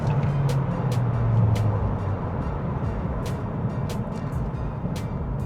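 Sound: JAC J7plus car engine accelerating in sport mode, third gear

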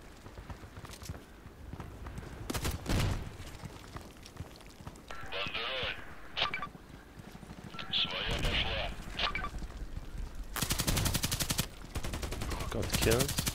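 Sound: RPKT machine gun firing in video game Contract Wars

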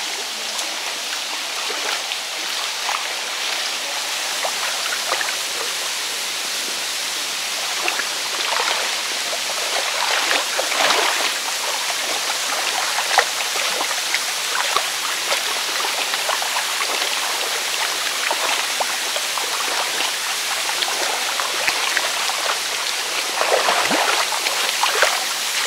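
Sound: waterfall and stream in Indonesia

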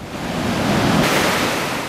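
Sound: ocean waves breaking on shore

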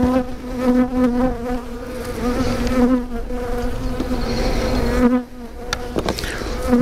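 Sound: honeybees buzzing during beehive nucleus colony inspection

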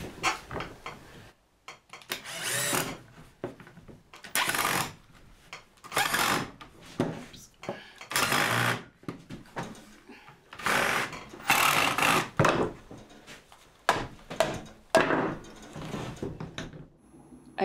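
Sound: driving screws into wooden garden gate

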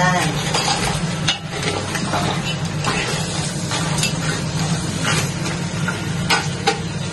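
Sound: stirring Cajun seafood with crabs in a pan

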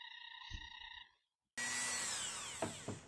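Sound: rotary tool buffing a handmade ring

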